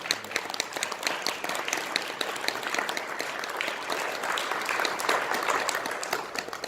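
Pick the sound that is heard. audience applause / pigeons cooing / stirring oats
audience applause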